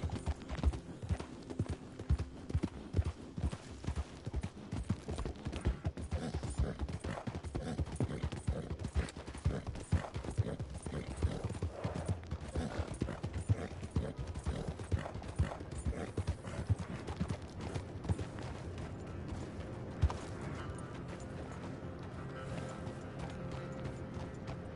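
Horse hooves clip-clop at a steady walking rhythm in the Red Dead Redemption 2 video game, close and continuous throughout, with faint creaks of tack underneath.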